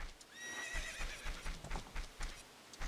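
Horse neighing in the video game Zelda: Ocarina of Time, a bright whinny near the start followed by steady clip-clopping hooves, moderately loud with no talk.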